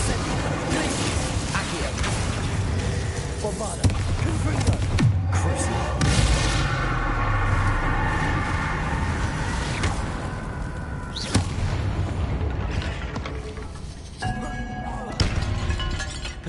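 Bombarda and Confringo spell blasts in a wizard video game: several thudding booms and crashes at intervals, mixed into a dense, clattering stream of game effects.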